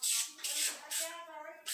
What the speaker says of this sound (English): spray some more of this degreaser on there.